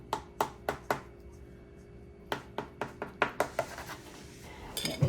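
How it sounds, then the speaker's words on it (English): Knife chopping down through a lemon poke cake on a hard board or plate, four quick knocks, a pause, then a faster run of sharp taps, close and fairly quiet. "we're going to cut us a piece out here"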